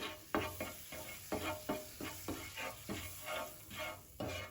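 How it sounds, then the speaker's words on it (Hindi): Garlic powder is stirred into pav bhaji in a pan, giving a run of about a dozen evenly spaced scraping strokes over a soft, steady sizzle, with no talking. "अब हम इसको अच्छे से मिक्स कर लेंगे।"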